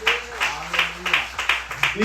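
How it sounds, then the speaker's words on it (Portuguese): A church congregation claps during a sermon, bursts of hand claps recurring in a loose rhythm while a voice keeps talking over them. "Dê uma salva de palmas a esse Deus"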